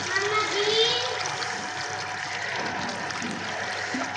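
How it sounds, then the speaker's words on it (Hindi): Water poured from above onto a root-bound mulberry in a pot on a rooftop garden, a steady close splashing trickle with soft splatter throughout, a child and an adult talking over it. "अब ये पानी डालना शुरू कर दिया"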